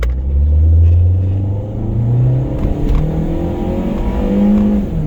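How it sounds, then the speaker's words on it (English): A 2004 Pontiac Vibe with worn linkage and bushings accelerates at full throttle, its engine giving a loud, close rumbling drone that climbs in pitch, eases briefly as it shifts, then rises again; no one speaks. "That's full throttle right there."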